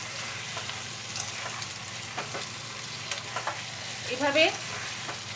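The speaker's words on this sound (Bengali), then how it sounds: "দিয়ে দইটাকে এবার মাংসের সঙ্গে ভালো করে মেশাতে হবে।" Yogurt is stirred into mutton sizzling in a pan for Bengali-style kosha mangsho, a steady fry with scraping stirs, and a brief word is spoken near the end.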